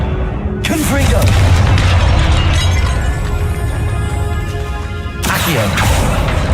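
A Confringo explosion spell cast in a Harry Potter video game near a bone-strewn altar, giving a loud sustained blast with crackling debris that rumbles for several seconds before a second burst.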